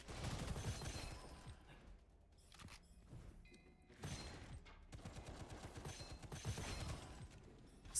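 Weapon being reloaded in the shooter game Gunfire Reborn, with mechanical clicks and ratcheting under steady, loud bursts of gunfire that swell and fade over several seconds.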